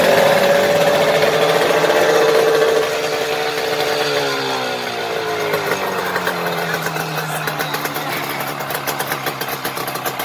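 A 1995 Mariner 25 HP outboard motor starts and runs close by, a loud buzzing engine whose pitch settles and drops as it drops toward a steady, slightly uneven idle.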